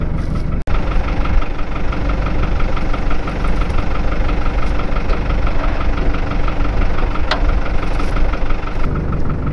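A tractor engine runs steadily at idle with a fertilizer spreader hitched behind, a continuous loud rumble with a faint knocking texture and one sharp click near the start.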